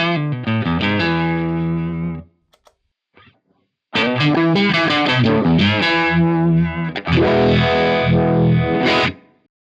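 An electric guitar played dry through an amp driven hard, giving a gritty, crunchy tone: a sustained chord rings, cuts off, then a longer phrase of loud overdriven chords and notes follows before stopping.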